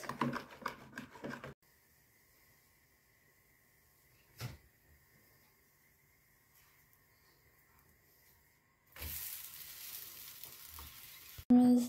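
Pancake batter sizzling in a hot pan, a short burst of frying at the start, a long near-silent stretch with one clunk, then loud hissing sizzle returning near the end, with no talk.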